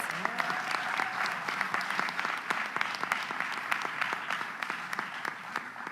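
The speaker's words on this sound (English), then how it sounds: "Can we give her a round of applause?" Audience applause for a governor at a press conference, sustained clapping from a crowd with sharp individual claps standing out and a brief voice near the start, steady and fairly close for six seconds.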